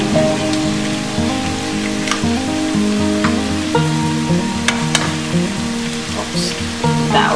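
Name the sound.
eggs frying in a pan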